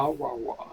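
A voice, close to the microphone, imitates a strange bird call heard outside with a short wavering, drawn-out vocal sound of a few rising and falling syllables.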